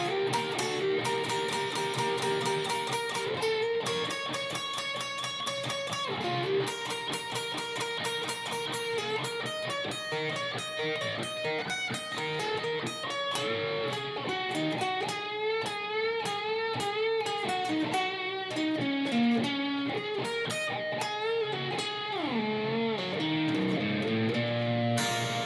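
Electric guitar slowly playing the full first solo from a song, overdriven blues phrases with string bends and held notes in a continuous, even-level passage, with no voices.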